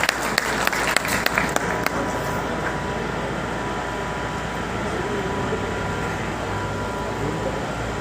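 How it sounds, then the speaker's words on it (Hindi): An audience at a youth parliament convention applauds to welcome a speaker: dense, sustained clapping with a few sharp claps at the start, filling the hall steadily throughout. "आप सबकी भरपूर तालियों में जमशेद अली शेख साहब को।"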